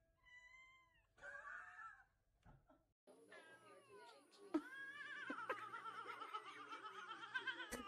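Several cats meow and caterwaul from a cat video playing on a stream, with repeated wavering calls coming through at moderate volume. Brief laughter and a short voice are heard early on.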